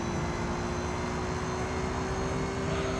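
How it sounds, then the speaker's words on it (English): Car scraping along the curb in the racing game Gran Turismo 3: A-Spec, giving a steady, loud roaring rumble like an airplane taking off that fills the whole stretch without a break. "When you drive your car on the curb, it sounds like a plane taking off."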